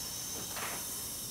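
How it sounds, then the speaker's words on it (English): Compressed air hisses through an air conditioner's drain pipe in a brief, steady, faint rush with a slight swell midway, no voices. "I want to blow the air through the pipe, of course."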